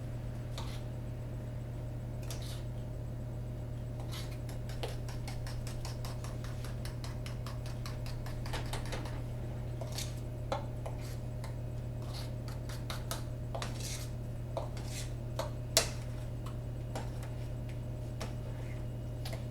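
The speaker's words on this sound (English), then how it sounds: "just trying to get all the sugar mixed up here" Sugar being mixed by hand in a bowl for a butter tart, with soft repeated ticking and scraping of the utensil against the bowl over a constant low hum, fairly quiet and close.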